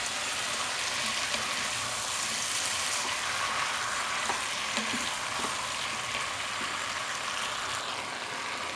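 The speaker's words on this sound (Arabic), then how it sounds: "ابدا بقى ايه اشوح كده اهو لحد الخضار بتاعي ما يدبل خالص" Vegetables for an Egyptian turlu tagine sizzle steadily in a hot pan, a dense continuous frying hiss with a few soft stirring scrapes, close and unbroken, with no voices.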